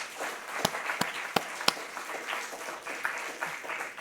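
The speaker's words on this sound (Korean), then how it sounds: "우리 이 시간에 박수 한번 보내드리십시다." A church congregation claps during a Sunday sermon, a scattered, moderate round of applause with a few sharp, distinct claps standing out early on.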